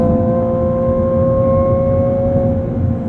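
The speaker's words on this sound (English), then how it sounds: "the twin-turbocharged V6 spools up, builds that boost" A Ferrari 296 GTB supercar with a hybrid twin-turbocharged V6 accelerates uphill, a loud, steady engine drone with a sustained whine heard from inside the cabin.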